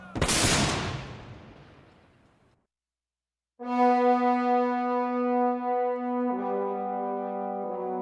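A militia volley of rifle fire into a crowd in Milwaukee cracks out as one loud, close burst that rolls and fades over about two seconds, followed by silence and then a sustained tonal chord.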